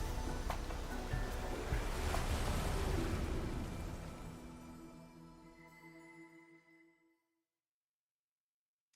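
A waterfall in Arknights Endfield gives a broad rushing wash of water, fairly soft, that fades steadily to silence over several seconds.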